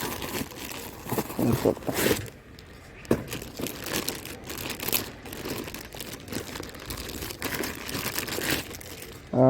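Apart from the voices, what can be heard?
unboxing a cycle saddle bag, packaging crinkling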